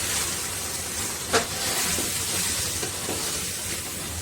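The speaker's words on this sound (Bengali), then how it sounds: "লঙ্কা গুঁড়োর পর হলুদ গুঁড়ো চলে গেল ওর উপরেই। এবার ভালো করে নেড়ে নেবো।" Chilli and turmeric powder being stirred in a pan of chicken masala at an outdoor picnic, a dense steady sizzle with one sharp scrape and a few softer stirring strokes, no voices.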